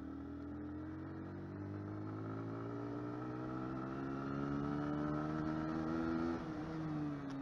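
A Honda CBR 125R motorcycle accelerates, its engine note climbing steadily through the gear in a rising whine, heard from the rider's position, fairly faint and unbroken, then dipping briefly near the end before climbing again.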